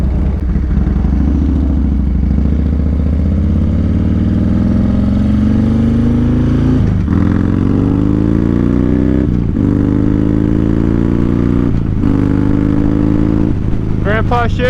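Vehicle engine revs and climbs through several gear shifts while cruising on the road, the pitch rising and dropping at each change; loud and steady throughout.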